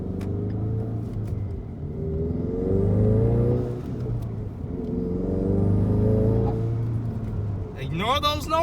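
A 2017 Ford Mustang EcoBoost Performance Package with a six-speed manual, modified, revs hard under full-throttle acceleration, a loud, steady, rising engine drone that swells and falls twice, with a quick higher-pitched sweep near the end.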